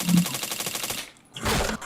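Rapid automatic gunfire in a shooting video game: a fast burst of evenly spaced shots lasting about a second, a brief pause, then a louder blast.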